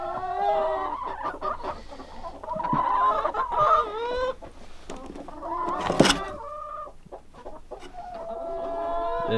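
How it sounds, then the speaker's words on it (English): Chickens in a coop housing about thirty birds cluck and squawk up close in irregular bursts, with one brief loud squawk in the middle and a low background hum throughout. "Look, we got a chicken thinking this is a nesting area."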